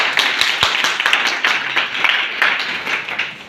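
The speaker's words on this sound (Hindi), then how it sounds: "उनके लिए जोरदार तालियां" Students at a coaching class gathering applaud their guru, Manoj Sankalp sir, with a dense, steady burst of crowd clapping that fills the whole moment at close range.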